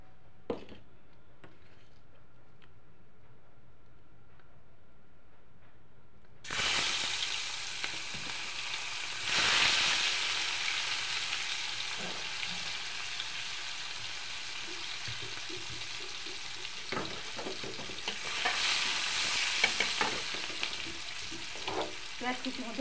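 Chopped onions frying in hot oil with a red chilli paste for a dried fish curry, a quiet start breaking into loud, steady sizzling with stirring scrapes and bursts of crackle.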